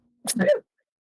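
A single sharp sneeze, close and loud, bursting out abruptly and lasting about half a second amid an otherwise quiet moment.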